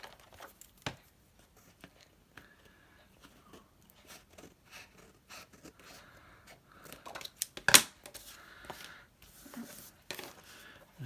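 Scissors snip off excess paper from a paper dolls storage book, with quiet, irregular cuts, rustles and one sharper crisp snip near the end, close by and without talk.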